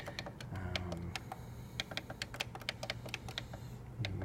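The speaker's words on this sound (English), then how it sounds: "I would just type in my password here." Steady, fairly quick clicking of keys on a keyboard as a password is entered, crisp close keystrokes over a constant low background hum, no voices.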